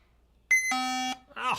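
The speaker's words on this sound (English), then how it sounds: "it just beeped at us" A laptop under motherboard repair gives one short electronic beep, a steady tone of about half a second, and a voice starts speaking right after it.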